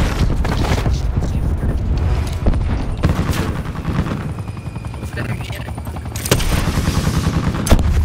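Video game gunfire crackles in rapid bursts and scattered shots over a constant helicopter-like rotor drone, with loud sharp peaks standing out from the dense mix.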